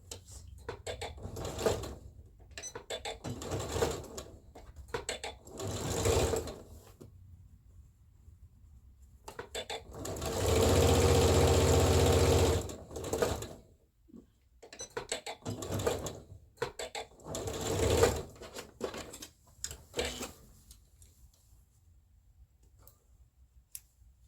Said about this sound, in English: first let's finish the stitching the side seam